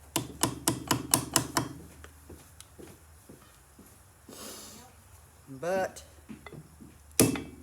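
Someone restoring an old hatchet strikes it with a hammer: about seven sharp, evenly spaced blows in quick succession, followed by a few scattered knocks and brief speech.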